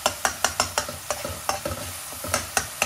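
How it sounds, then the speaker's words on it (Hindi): Chopped green chillies and onions frying in a pan for egg curry, with a steady series of sharp scraping stirs about every quarter second over a soft sizzle, close and moderately loud. "ये बारीक चॉप की हुई हरी मिर्ची, इनको थोड़ा सा सोते होने तक फ्राई करेंगे"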